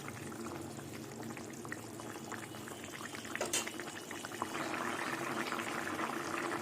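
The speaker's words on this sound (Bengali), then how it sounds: "এই ভাজা মাছ মাছ দিয়ে কিছুক্ষণ ফুটিয়ে নেবো ঝোলটা" Rohu fish curry, a thin gravy with taro and fried fish pieces, boils in a pot with steady, dense bubbling that continues without pause and swells slightly louder toward the end.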